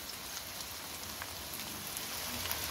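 Chopped onions sizzle in hot oil in a pan, a dense, steady crackle and spatter heard up close with no voices.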